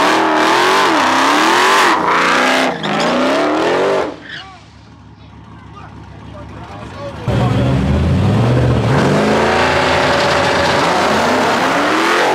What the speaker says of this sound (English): That's the Hellcat.